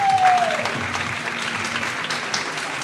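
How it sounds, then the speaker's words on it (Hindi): Studio audience clapping for a cricket talk show, a steady, moderately loud spread of applause lasting a few seconds, with a brief tone at the start. "तालियां बजाओ यार।"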